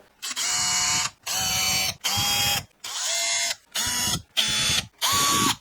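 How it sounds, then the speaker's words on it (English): A drill bores side dot holes into the edge of a guitar neck for an SG build, seven short whirring bursts in a steady rhythm, each about half a second to a second long with brief pauses between, close and loud. "side dots drilled out, right on the gap"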